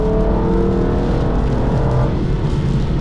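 An Aston Martin DB9 engine pulls hard under acceleration on a track, a loud, steady close-up roar with a sustained drone that builds slightly throughout.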